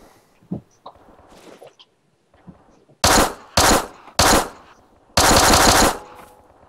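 First-person gunfire in the survival video game Miscreated: four loud, close bursts of automatic fire, the last one longest, after a few seconds of quiet footsteps and small clicks.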